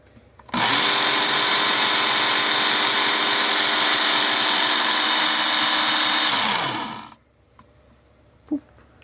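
Work Sharp Ken Onion knife sharpener running a fine belt against a blade, a loud steady grinding whine that starts abruptly, holds for about six seconds, then winds down and stops, followed by a faint click.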